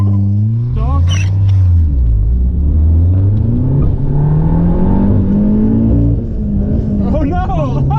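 Rally car, a Rallywagen on a stage run, launches hard and accelerates through its gears, with loud engine revving and rising then dropping pitch under a strained clutch; voices shout close by inside the cabin over the roar.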